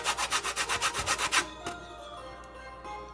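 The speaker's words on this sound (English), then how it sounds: "Grate some lemon zest." Lemon zest is grated for a Jamaican fruit cake, about a dozen quick rhythmic rasping strokes up close, followed by softer scraping and handling sounds.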